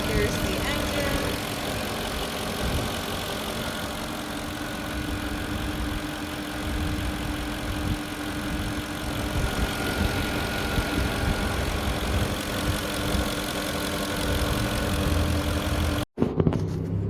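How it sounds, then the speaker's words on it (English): A 2006 Porsche Cayenne engine idles steadily under the open hood, a continuous close rumble with a faint ticking texture, while a person speaks over it. "And then I'll take a video of the engine running as well."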